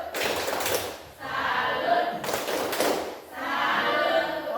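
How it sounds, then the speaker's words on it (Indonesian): A classroom group performs a salute clap during a teaching-practice lesson: two bursts of quick, close clapping alternate with stretches of voices calling out together, fairly loud and near. "Kita kasih tepuk salut lagi ya. Tepuk salut."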